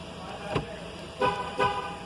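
A 2019 Chevrolet Tahoe horn gives three short toots: one, then a pause, then two close together, over faint background noise.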